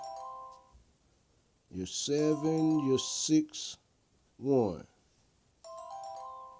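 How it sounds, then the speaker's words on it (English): An old phone rings twice at the start and end with a brief electronic tone, heard faintly between someone speaking clearly in the foreground. "That's this old phone going off."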